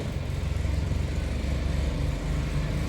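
A road vehicle passes near a roadside shop on the Jejuri road, its steady engine rumble and tyre noise filling the clip at a fairly constant loudness without anyone speaking.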